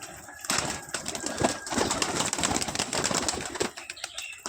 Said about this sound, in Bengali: তো বেশি লেট না করে চলো আগে পায়রাগুলো ছেড়ে দিই।